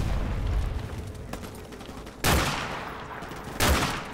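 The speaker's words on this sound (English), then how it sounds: "So I'm just shooting the red barrel, it's a bit of fun." Gunfire in Call of Duty: Modern Warfare Remastered, scattered shots followed by two loud, sharp explosions of a red barrel about a second apart, each trailing off in a rumble.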